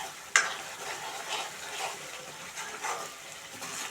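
Spicy masala fried in oil for a brinjal curry while being stirred, a constant close sizzle with rhythmic scraping swells about every half second, opening with a sharp clink of the spoon against the pan.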